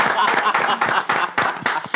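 A TV studio audience claps for a guest in a lively round of applause, with a voice talking over the clapping throughout.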